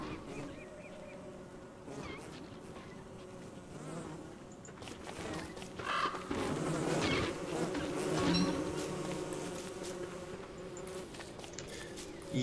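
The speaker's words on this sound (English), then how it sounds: "Yes, thank you, bees." Bees buzzing in the video game Don't Starve, a layered insect drone that swells in the middle, heard over game music and other in-game sounds at moderate level.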